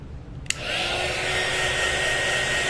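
A hair dryer switches on with a sharp click and then blows steadily and loudly, drying a rounded craft piece before rub-on transfers are applied.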